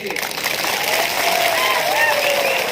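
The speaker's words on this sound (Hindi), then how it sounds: "रतीश बाबू को ताली दीजिए" A large crowd at a Tipra Motha mass gathering in Chawmanu, Tripura claps steadily for a district president, a dense, loud wash of applause with cheers and shouted voices mixed through it for the whole stretch.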